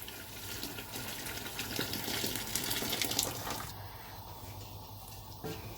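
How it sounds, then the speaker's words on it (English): Boiled water from a kettle pours into a pot of soaked rice for a one-pot chilli con carne meal, a close gushing splash that swells and then tapers off. "I am going to put in 9 cups of water, which I have boiled in a kettle."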